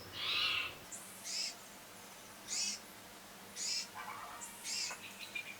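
Birds call outdoors in repeated bright bursts, about five separate calls spaced a second or so apart, moderately loud and close, over a faint steady background with no talking.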